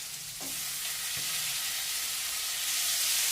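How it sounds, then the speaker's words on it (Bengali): Chopped small tomato and coriander leaves hit a hot frying pan with a loud, steady sizzle that swells after a brief initial clatter and keeps hissing, with no voices. "একটা ছোট্ট টমেটো কেটে দিচ্ছি, আর একটু ধনে পাতা।"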